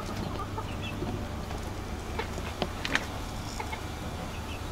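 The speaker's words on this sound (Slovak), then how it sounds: "kohút si robí poriadky" A rooster in a settlement in Bangkok, Thailand, gives scattered, fairly faint clucks over a steady background hum.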